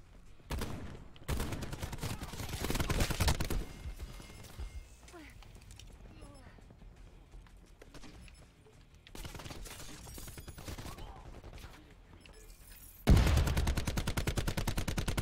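Bursts of gunfire from the player in Call of Duty 4, loud rattling volleys in separate clusters with quieter gaps between, ending in a heavy, dense burst.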